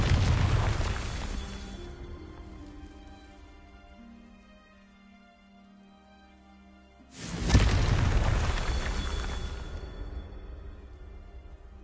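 A fiery spell blast in a fantasy video game bursts in with a sudden loud boom, then a broad rushing roar that lingers for several seconds after a quieter stretch of low ambient tones.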